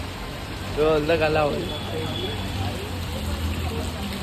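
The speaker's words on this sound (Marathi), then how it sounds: "पाऊस पडतलाय" Steady rain hisses in the background in Dombivli while someone speaks briefly over it.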